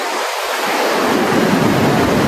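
Sea waves surging onto a shore, a steady broad wash of surf that builds slightly, close and loud with wind-like rush throughout, no voices.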